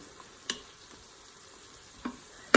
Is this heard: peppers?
yes